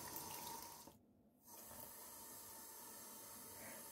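A stream of water runs from a tap, a steady loud hiss that briefly drops out before resuming, with no talk.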